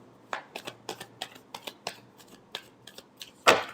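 A deck of tarot cards being shuffled by hand, a run of quick, crisp riffling flicks in an uneven rhythm, close and fairly quiet, closing with one louder burst of cards snapping together. No one talks.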